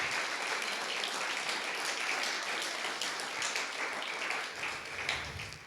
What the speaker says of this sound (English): So please give Dr. Yankee a huge round of applause.